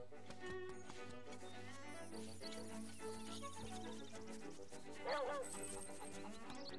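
A small dog barks in The Legend of Zelda: Link's Awakening on Nintendo Switch, brief yips rising over the game's steady melodic music.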